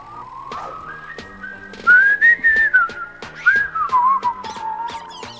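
A person whistles a melodic tune in clear, bright sustained notes over a rhythmic backing track in a Fortnite trailer, loud and alone with no talk.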